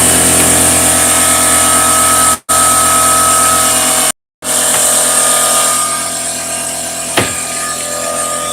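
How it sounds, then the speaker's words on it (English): A loud air compressor runs continuously with a dense mechanical drone, cut by two brief dropouts, then settles into a slightly quieter steady run with one sharp knock near the end. "best air compressor ever made."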